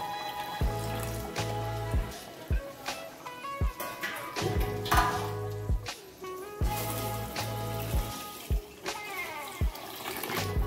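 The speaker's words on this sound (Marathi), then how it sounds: "पाणी ओततंय आता थोडं।" Water poured into a cooking pot splashes and trickles in uneven bursts, close by, over a repeating musical background, with no speech.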